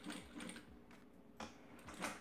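Sewing machine stitching a tote bag seam in reverse, a quiet run of rapid mechanical needle clatter in short bursts with brief pauses between them.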